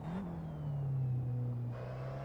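A race car engine pulling in third gear in Assetto Corsa hums low and steady with a slowly shifting tone, heard alone and moderately quiet over about two seconds.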